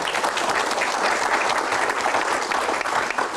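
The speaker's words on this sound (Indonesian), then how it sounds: "Tepuk tangan." Audience applause at a Q&A event, a steady, dense wash of clapping from a large crowd, loud and continuous throughout.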